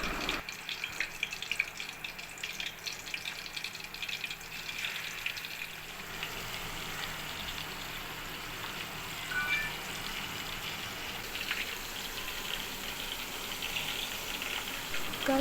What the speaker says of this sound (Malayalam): ഞാൻ ചിക്കൻ എല്ലാം ഫ്രൈ ചെയ്യാൻ വെച്ചിട്ടുണ്ട്